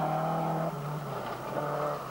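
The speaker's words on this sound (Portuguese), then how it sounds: "no Toyota oficial da Salvador Keita." Official Toyota rally car with four-wheel drive at the 1989 Algarve Rally, a loud close engine drone that shifts pitch as the car changes gear and accelerates past, with no commentary over it.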